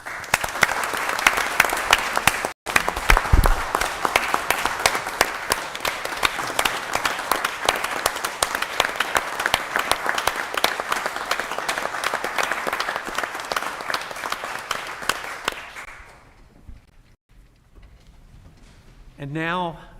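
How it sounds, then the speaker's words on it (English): Audience applause at a town council meeting, a long sustained round of many hands clapping with some cheering that fades out near the end, followed by quiet and a brief bit of sound. "Let's give them a well-deserved round of applause."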